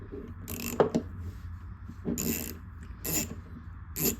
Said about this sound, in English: Probably a little overkill using a ratchet.